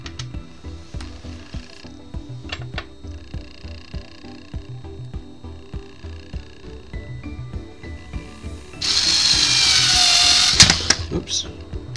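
A power drill drives the final screw into a wooden board case, a loud close whirring burst near the end after quieter clicks and handling, with a person talking over the work.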